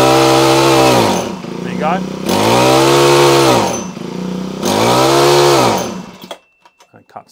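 A Honda HHH25 hedge trimmer's small engine needing a carburetor clean revs hard to full throttle three times in long rising whines, dropping between bursts, then sputters and cuts out into uneven pops; a voice briefly speaks.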